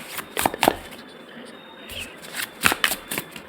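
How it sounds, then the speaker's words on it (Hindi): Tarot cards are shuffled and drawn in quick papery riffles and flicks, close and crisp, with a pause in the middle, as someone talks over parts of it. "पहले मैं कार्ड निकाल लेती हूँ।"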